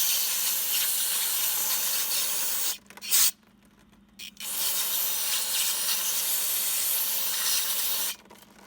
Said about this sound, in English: we're going to use here is some brake cleaner, and we're going to spray it